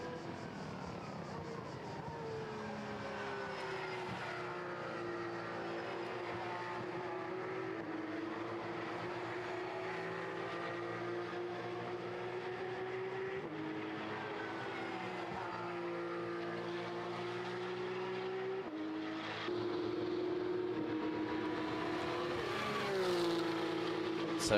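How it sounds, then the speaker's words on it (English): Porsche race cars at full qualifying speed on the Monza circuit in the Porsche Sports Cup Suisse, a steady high-revving engine drone with shifting pitch that runs continuously and swells louder near the end. "So it's now about getting the cars up to full racing speed here in qualifying trim."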